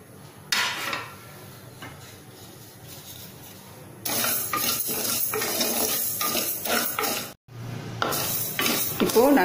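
Black gram dry-roasts in a hot pressure cooker as a spoon stirs it, making dry rattling and scraping bursts against the metal, with quieter gaps and a brief silence near the end.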